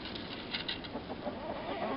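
Homestead egg-laying and meat chickens in their run cluck softly in quick bursts, faint and steady against a low background hiss, with no voices.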